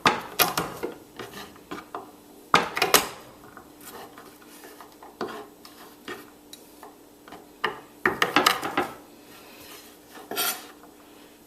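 Garlic cloves get crushed under the back of a knife on a cutting board, sharp knocks and clacks arriving in short clustered bursts with quiet gaps between, close by and free of speech.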